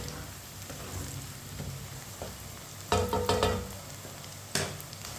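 Chopped onions frying in a pan for an arvi (taro root) masala while a spoon stirs them, a steady soft sizzle with a few sharper scraping clatters of the spoon partway through; no one speaks.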